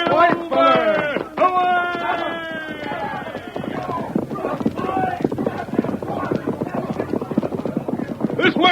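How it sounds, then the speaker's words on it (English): Horses in an old Lone Ranger radio drama: loud whinnies open, then a rapid, continuous clip-clop of galloping hooves close by that carries to the end. "Get on your horse, Tonto."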